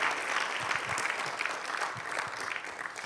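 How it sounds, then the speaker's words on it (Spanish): A church congregation at a Spanish-language worship service applauds continuously, a fairly soft, even wash of many hands with a few lower thumps mixed in, no talk over it. "¿Por qué no le das un fuerte aplauso al Señor por eso"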